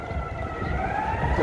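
Emergency siren wailing on a busy downtown Chicago street at Ontario and Michigan Avenue during St. Patrick's Day crowds, a steady rising tone over dense traffic rumble, fairly loud and continuous throughout.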